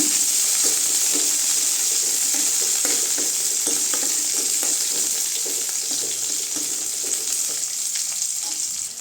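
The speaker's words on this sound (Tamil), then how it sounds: "வெங்காயம் மிளகாய் நல்லா வதங்கிடுச்சுங்க" Onions and chilies sautéing in a hot pan, a loud continuous hiss and crackle with frequent stirring scrapes throughout.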